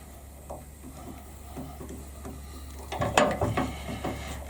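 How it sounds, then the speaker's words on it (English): A HEXA pen kit's nib section is screwed back into the barrel, making small ratcheting clicks and thread scrapes up close that grow louder toward the end. "I can then screw the nib section back in like so"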